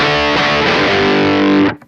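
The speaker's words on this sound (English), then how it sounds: "I can also turn on the BB preamp to get to that high gain kind of sound," Electric guitar through a pedalboard with a BB preamp gives a thick, high-gain distorted rhythm chord, sustained loudly for about a second and a half before being abruptly muted.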